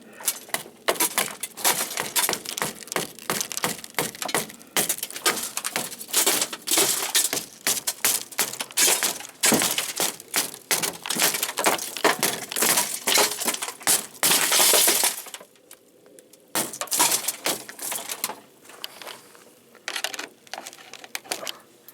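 Glass from the rear tailgate window of an AMC Jeep Cherokee crunches and cracks as it is pushed inward, a dense run of sharp crackling and tinkling fragments with a brief pause near the end.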